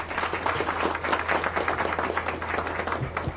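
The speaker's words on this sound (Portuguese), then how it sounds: "Uma salva de palmas ao nobre deputado." A room full of people applauds at a session of the Brazilian Chamber of Deputies, dense steady clapping at moderate volume throughout.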